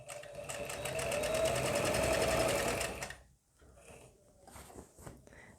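A sewing machine stitches fabric for a roll cushion, a rapid, even whirring run of needle strokes for about three seconds, then stops, leaving quiet handling noises and brief soft sounds.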